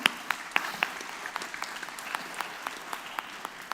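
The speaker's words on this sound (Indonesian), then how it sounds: "Tepuk tangan buat yang bertanya." Sparse, light applause from a seminar audience after a question on personal branding at a university talk, a few scattered claps at low level rather than a full ovation.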